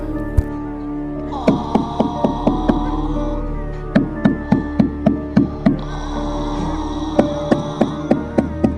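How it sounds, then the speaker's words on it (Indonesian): Sharp knocks on a door in a horror story, arriving in rapid bursts of about five or six raps, repeated three times with short pauses, loud and close over a steady eerie drone. "ada suara yang mengetuk pintu"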